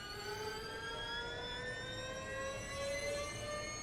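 Electric motor of a Porsche Mission R race car in iRacing, a thin rising whine with several tonal layers climbing steadily in pitch over quiet background noise, fairly faint.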